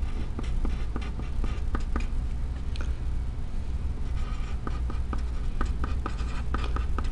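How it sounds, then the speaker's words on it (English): Marker or pen scratching out a math problem on a board or paper, a steady run of close, dry strokes and taps over several seconds with no talking. "Let me write the problem down."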